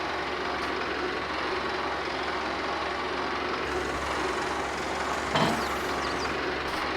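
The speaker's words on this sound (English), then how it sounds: "Just as it bursts into life every time. This is a good solid tractor" A tractor engine runs in Farming Simulator 22, a steady low diesel drone with a constant rumble throughout, close and unbroken apart from a faint clunk near the end.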